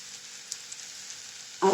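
Ingredients for a potato snack sautéing in a pan give a steady, soft sizzle throughout, with a few faint pops and a louder burst of stirring or added ingredients near the end.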